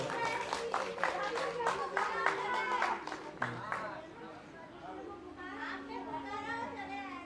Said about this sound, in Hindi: एक बार इनके लिए भी जोरदार तालियां हो गया